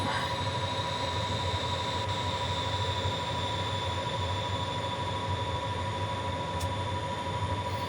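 An Amtrak train passes in Train Simulator 2018 on Donner Pass, a loud continuous rumble of wheels on rail with a steady high squeal riding over it, close and unbroken.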